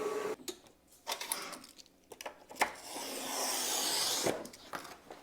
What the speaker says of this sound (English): Looks like our vinyl cutter is almost done cutting this first section.